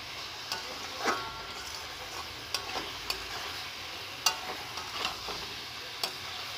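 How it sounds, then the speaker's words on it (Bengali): Spices being stirred into vegetables in a pan, a soft ongoing sizzle broken by repeated light scrapes and clicks of a spoon against the pan at an uneven pace. "মশলাটা ভালো করে সবজির সাথে নেড়ে চেড়ে নিয়ে নেবো"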